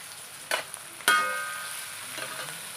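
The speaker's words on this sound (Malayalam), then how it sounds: "കുറച്ച് ചെറിയ ഉള്ളി ചേർത്ത് കൊടുക്കാം." Small onions (shallots) tipped into hot oil in a pan, a couple of sharp clatters followed by a brief burst of sizzling that settles into a quieter continuous fry.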